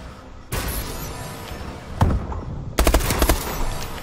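Rapid automatic gunfire in Call of Duty Advanced Warfare, a hardcore online match, bursts of quick shots with thuds and impacts, loud and close, no talk over it.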